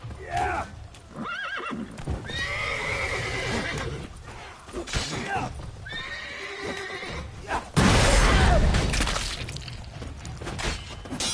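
Horses in The Witcher 3 video game neigh and whinny loudly several times, with hoof clatter, a crash and game voices mixed in.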